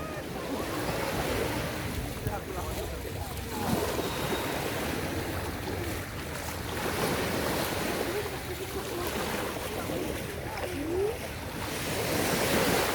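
Sea waves at Pereybere beach, Mauritius, breaking and washing continuously nearby, with low rumble and wind buffeting the microphone and swells rising and falling in loudness.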